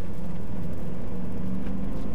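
A 2001 BMW M5 E39 with a stock V8 heard from inside while driving, a steady low engine drone with road roar that holds even throughout, no talk.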